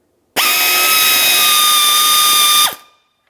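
A power tool on a Ford Flex radiator job spins out a 10mm bolt in one loud, steady high-pitched whine lasting about two seconds, starting and stopping sharply against near silence.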